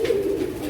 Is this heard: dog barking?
no